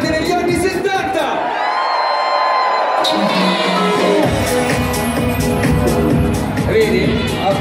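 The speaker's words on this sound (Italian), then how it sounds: "E allora sentiamo l'urlo di tutti quelli come me, nati negli anni 70!" A nightclub crowd at a packed Lupi Solitari event roars and whoops loudly, the shouting swelling and staying dense throughout, with a voice speaking over the din.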